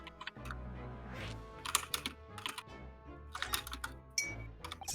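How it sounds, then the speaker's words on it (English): Fingers clatter rapidly across a computer keyboard during a game session, close and crisp, with irregular bursts of keystrokes and brief pauses, no voices. "I can hear your keyboard"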